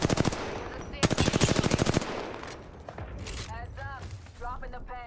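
Rapid automatic gunfire from Apex Legends, two loud bursts of fast shots in the first two seconds, then scattered distant fire and whooshing game effects, with a voice speaking over it.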